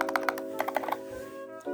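Typing on a custom-built keyboard with Glorious Panda switches and cherry blossom keycaps, a quick burst of crisp close keystrokes in uneven clusters, then a pause over a steady hum.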